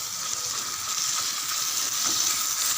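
Ground masala paste sizzles in a pan for chicken fry, a steady, close, even frying hiss with faint stirring underneath, continuous throughout.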